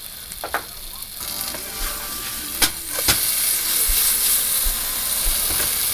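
Vegan pancake batter sizzling in plenty of frying oil, a steady close hiss and crackle with a few sharp pops and spatula scrapes.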